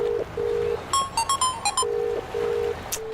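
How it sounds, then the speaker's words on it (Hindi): Phone ringback tone while placing a call, repeating steady electronic tone pulses with short gaps, interrupted midway by a quick cluster of higher beeps, fairly close and clear with no talking. "रुक, पहले सूर्या को फोन लगाता हूँ।"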